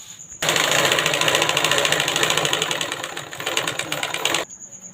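A sewing machine stitches a collar neck blouse, running steadily and loudly with a fast rhythmic mechanical whir for about four seconds before stopping abruptly, alone without talk.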